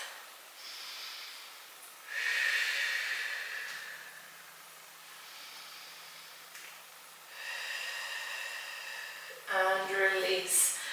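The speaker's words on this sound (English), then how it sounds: "Deep breaths." Slow deep breaths drawn in and pushed out during a quad stretch in a morning mobility routine: two long, airy exhales with a softer breath between and a sharper, shorter breath at the end, close and fairly quiet.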